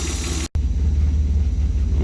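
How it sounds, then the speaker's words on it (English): An Austin Healey 3000 engine rumbles close by with a brief dropout near the start, then carries on at a raised, revving hum without any talking. "I might give it a little bit of a rev up just for your enjoyment"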